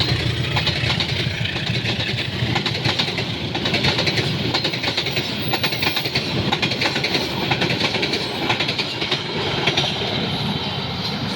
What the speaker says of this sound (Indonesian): Ini keretanya pelan-pelan ya yang dari arah kanan